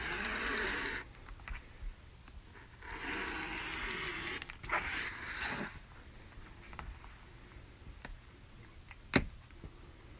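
An Alex Anderson rotary cutter rolls through border fabric around a quilt panel square, making soft scraping swishes in short bursts with quiet pauses and a sharp click near the end.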